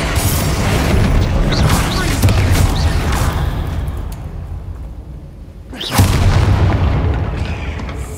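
A Confringo fire-blast spell from the Hogwarts Legacy video game erupts in booming blasts, with a heavy explosion around six seconds, loud and close over a dense game soundscape.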